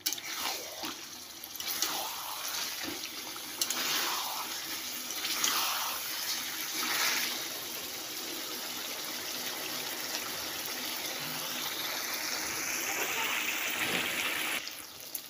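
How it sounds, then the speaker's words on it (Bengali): Hot water poured into a pan of chicken curry being cooked, a steady watery splashing and trickling running for several seconds, fairly close and moderately loud, with no talking over it. "আর একটু কষিয়ে তারপর আমি দিব জল, গরম জল করে রেখেছি।"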